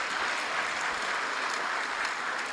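An audience at a government awards ceremony gives the President a round of applause, a dense and steady clapping that fills the room from start to end.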